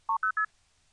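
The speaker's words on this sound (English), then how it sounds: "ST2P is one of the 5 control tones of the MF system" An MF control tone on a 1970s telephone line sounds as three short, clean beeps in quick succession, each slightly higher than the last, then quiet line hiss.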